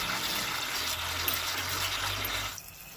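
Black-eyed peas being washed in water: a steady, close rush of splashing water lasts a few seconds, then cuts off abruptly.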